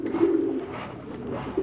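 Domestic pigeons coo close by in a low, rolling murmur, a soft continuous throaty burble with slight swells and no talk over it.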